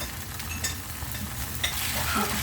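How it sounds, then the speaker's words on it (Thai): Small Indonesian-style egg noodles tossed with a thick sauce in a pan, a low steady sizzle broken by a few scraping stir strokes, close and fairly quiet with no voices. "แล้วก็คลุกเคล้าค่ะทุกคนผัดคลุกเคล้าให้เขาเข้ากัน"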